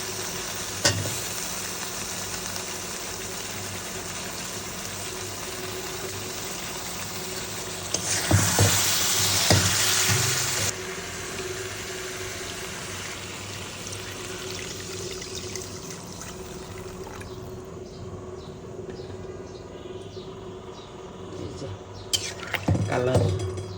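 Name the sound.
broth poured into pan of fish and pumpkin curry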